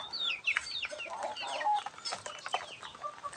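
Several chickens cluck and chatter close by in a continuous, busy stream of short calls, with no talking.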